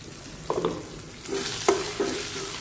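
Cooked brinjal is sautéed with ground spice powder for Karnataka vangibath, with a soft sizzle and several distinct scraping and stirring knocks of a spoon against the pan, close up, with no talking.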